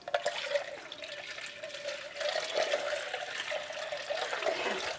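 Water runs from a kitchen tap into a container while cooking a ham casserole, a steady close gush with a slight gurgle that grows a little fuller partway through, no talking.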